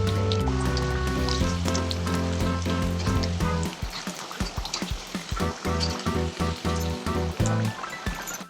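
Aloo samosas deep-frying in peanut oil: loud, close bubbling and crackling sizzle that continues throughout, with occasional clinks as the pieces are turned.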